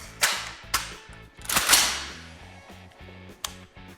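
Supersonic rifle rounds fired through a Texas Silencer Company Outrider suppressor outdoors, several sharp cracks with short trailing decays spaced unevenly over a few seconds, over a faint rhythmic low background.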